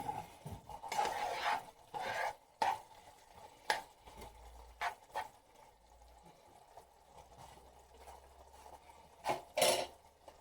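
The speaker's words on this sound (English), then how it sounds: "Back over here, we're gonna mix up our onions again." Onions get stirred in a pan for shepherd's pie, with intermittent scraping and clinking of a utensil against cookware in short bursts and a faint sizzle between them.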